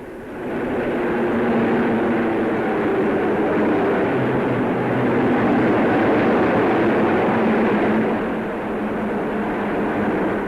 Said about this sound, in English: As squadron after squadron arrived, the speed of the flypast mounted. Meteors now of Fighter Command.